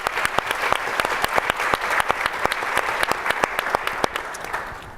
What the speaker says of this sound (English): So I want to give a round of applause to CLAFA for all of their work.